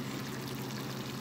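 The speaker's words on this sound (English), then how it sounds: "I am adding a small bowl of water in there." Water poured from a small bowl into a simmering crab, shrimp and snail stew, a steady, continuous splashing pour that runs through the whole short moment without any talk.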